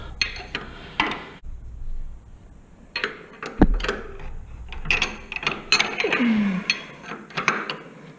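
A Harley Softail rear suspension preload adjuster is turned loose with a tool, giving a series of metallic clicks, clanks and ratcheting bursts with short pauses between them, close by.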